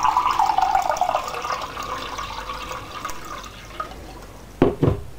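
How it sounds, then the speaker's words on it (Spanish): Water poured into a pan of squid in sauce streams and gurgles loudly at first, tapering into a softer trickle, followed by two brief clanks near the end. "Y a continuación pondremos agua."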